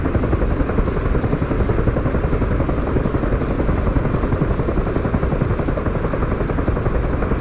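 CH-53E Super Stallion heavy-lift helicopter in the DCS flight simulator, a steady loud rotor and turbine roar with dense rumbling thrum that stays constant throughout, no talk.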